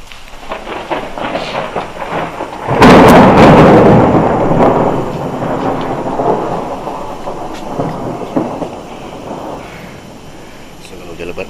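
Heavy rain near a forest reserve at Bukit Miku, with a loud rumbling thunderclap rolling in and fading slowly over steady rainfall, while a person talks.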